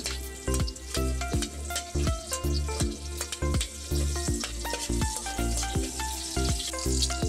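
Garlic sizzling and frying in a pan over a hot wood fire, a steady bright crackle with repeated clinks and scrapes of stirring, a low hum underneath, no talking.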